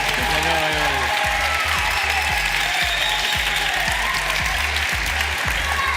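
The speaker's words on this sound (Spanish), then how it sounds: "Un aplauso para él" A studio audience applauds a winner on a Spanish science television show, the clapping continuous over a repeating low rhythmic music bed.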